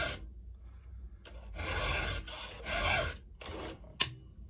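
Hand file sharpening a chainsaw chain, several short rasping strokes in an uneven rhythm, close and fairly quiet, ending with a sharp click.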